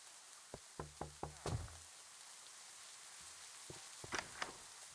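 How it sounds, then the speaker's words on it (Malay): Several sharp knocks on a door come in a quick cluster of about four, then a quieter pause and another scattered group of raps, fairly close in a quiet room with no talking. "Siapa yang mengetuk?"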